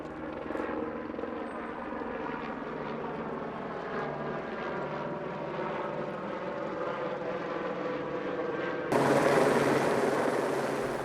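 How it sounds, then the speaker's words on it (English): A helicopter carrying a police dog: a loud, steady rotor and engine roar with a rapid chopping pulse, growing louder near the end, with no voices. "This is the moment when Rocky was being loaded into a chopper."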